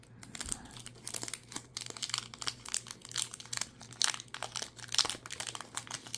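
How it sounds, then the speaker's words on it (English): Crinkly plastic wrapper of a Tim Hortons hockey trading card pack being torn and wrestled open, a quiet run of sharp crackles and rips in uneven bursts, close up. "we're going to open the Tim Hortons packs, if I can get it open"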